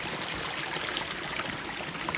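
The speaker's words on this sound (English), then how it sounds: "And you can see the water flowing." A farm stream swollen after flooding rushes along in a steady broadband wash of flowing water, dense and continuous, fairly close, with no talk.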